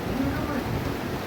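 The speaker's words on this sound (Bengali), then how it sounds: "কি জোরে বৃষ্টি পড়ছে দেখ বাবু" Heavy rain pours steadily outside a window in a dense, continuous wash of loud hiss with no clear pauses.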